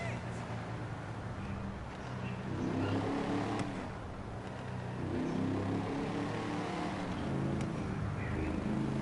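Motorcycle engine in a PS4 game revving and droning steadily, rising and falling in pitch across several seconds, fairly faint and mixed under game background noise.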